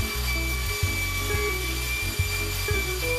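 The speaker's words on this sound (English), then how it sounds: "belt sander." A belt sander works across a carved wooden welcome sign, giving a steady mechanical hum with a faint high whine and brief rhythmic dips as the sander shifts over the wood.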